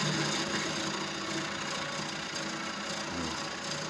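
A bocote wood bowl spinning on a lathe under a blunt gouge, a continuous dense whirring hum with rough scraping texture, steady and close throughout, no talking.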